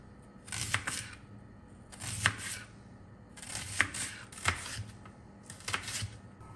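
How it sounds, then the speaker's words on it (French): A knife chops onion and garlic on a cutting board in a home kitchen, bursts of quick crisp strokes separated by short pauses, close and clear. "je vais déjà découper un oignon et hacher un petit peu d'ail"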